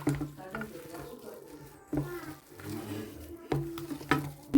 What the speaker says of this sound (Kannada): ಮಿಕ್ಸ್ ಮಾಡಿದ್ದೀನಿ ಕ್ಲೀನಾಗೆ.